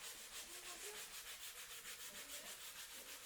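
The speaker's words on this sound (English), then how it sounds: "That's when you break out a squishy sanding block and do some fine tuning." A squishy sanding block rubs along the edges of wooden kitchen cabinet sides in quick, even back-and-forth strokes, faint and close, with no talking.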